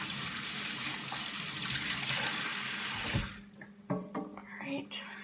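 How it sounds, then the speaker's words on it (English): Hands washed under a running tap, a steady stream of water splashing into a sink that then cuts off, followed by a few drips and wet handling sounds. "you should wash your hands"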